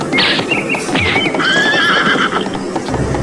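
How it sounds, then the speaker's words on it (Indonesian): Horse neighing and hoof clip-clop from a sound effect in an Indonesian audio drama, a loud close whinny that rises and trails over hurried hoofbeats, with no voices heard. "Kuda Jenderal roboh tertusuk senjata."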